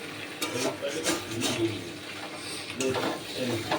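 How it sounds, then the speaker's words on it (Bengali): Chicken pieces are being sautéed with spice masala in a home kitchen pan, with repeated close scraping stir strokes in an uneven rhythm over a soft frying hiss. "আর এখানে দেখো আমি চিকেনটা কষাচ্ছি মশলা দিয়ে"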